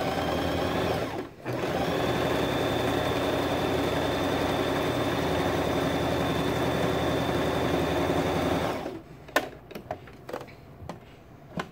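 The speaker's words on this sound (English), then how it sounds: "So I'm lowering my presser foot down, and I'm going to be sewing these together for the first largest shape." A sewing machine runs steadily for about eight seconds, stitching pieces of a mola sample together in white thread, then stops with a few short clicks and a final burst of stitching.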